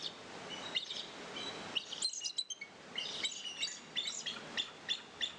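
Bright, high-pitched chirps and tweets from a bird, repeated in quick irregular bursts, fairly close and clear against a quiet background.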